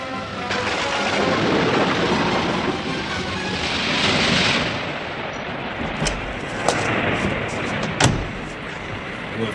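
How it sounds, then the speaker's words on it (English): A storm at sea aboard a sailing ship roars with heavy wind and rushing water, broken by several sharp cracks and thuds like thunder or straining timbers, loud and continuous throughout. "You have quite a storm on you, Captain Onedin."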